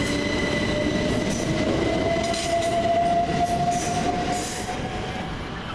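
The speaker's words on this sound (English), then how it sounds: "Now leaving will be the 750 Southern Railway service from Brighton to Ports of Harbour" A Southern Railway class 377 train pulls out of a station on the Brighton to Portsmouth Harbour service, with a steady loud rumble of wheels, a sustained rising squeal and intermittent rattles as it moves off, with no voices.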